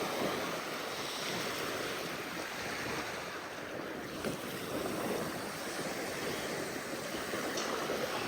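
Surf on Greenhill Beach in Weymouth, a continuous, fairly faint wash of breaking waves mixed with wind buffeting the microphone, with no voices.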